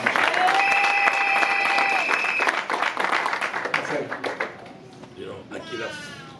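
A church congregation applauding during a Holy Communion celebration service, dense clapping that gradually thins and fades, with sustained tones and voices mixed in over it.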